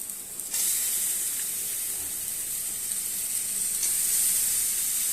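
Chopped ash gourd hits a small amount of hot oil in a pan, setting off a sudden loud, continuous sizzle that holds steady up close with no talking.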